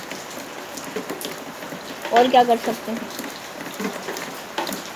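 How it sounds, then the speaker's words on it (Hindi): Steady rain patters and hisses throughout, with a person briefly talking over it midway. "जब बारिश ऐसे होती है ना"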